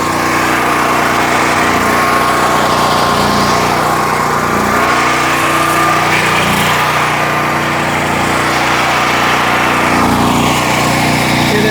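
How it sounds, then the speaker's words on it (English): A portable home backup generator engine runs steadily with its choke set to run, a loud, constant close-up drone with no talk over it. "Now with the generator running"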